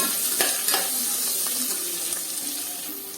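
Onions frying in a pan with pepper powder while being stirred, for a vegetable stew: a steady close sizzle with a few scraping spoon strokes over it and no talking.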